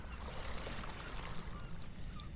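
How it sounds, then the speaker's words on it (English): Soft waves wash and trickle against beach stones at high tide on a Cape Cod winter day, a faint, continuous gentle lapping with no talk. "Can you hear the soft lapping of the waves on the stones?"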